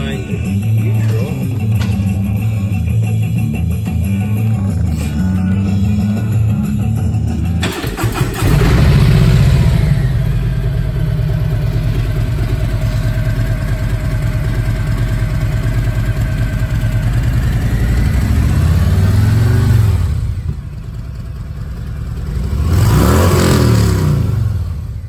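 A 2017 Harley-Davidson Street Glide Special starts up with a sharp crank and settles into a loud, throbbing idle, then gets several revs that rise and fall.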